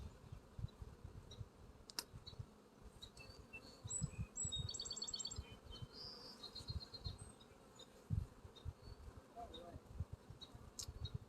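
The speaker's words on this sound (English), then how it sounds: "these are bees that were born here on the property." Honey bees buzz around resource hives outdoors, a low, uneven hum close by with irregular swells, while faint birdsong chirps in the distance.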